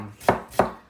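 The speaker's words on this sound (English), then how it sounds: "chop them fine" Onions chopped finely on a board with a knife, two crisp, evenly spaced thuds close up, with no voices.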